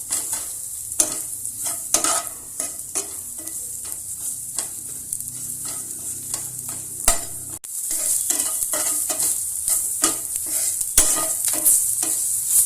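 Onions frying in oil in a pan, a bright constant sizzle broken by regular scraping stirs of a spatula, close and fairly loud, with no talking.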